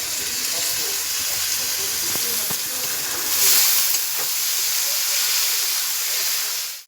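Tomatoes are added to onions frying in hot oil. A loud, close, continuous hiss and sizzle holds steady, swells briefly midway, then cuts off at the end.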